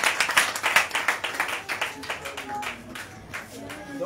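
A church congregation claps together to acclaim God at the close of a worship service: a dense, brisk run of hand claps that is loudest at first and then thins and fades, with voices mixed in underneath.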